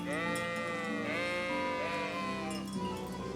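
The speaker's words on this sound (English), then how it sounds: "But I did find sheep." Sheep bleating in the medieval video game Kingdom Come: Deliverance, several wavering overlapping bleats close by over a steady background, with no talking.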